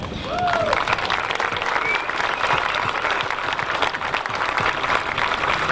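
Steady applause from a crowd at a golf tournament opening ceremony, honoring kids from the First Tee; dense, even clapping fills the whole stretch, with a brief voice-like tone near the start.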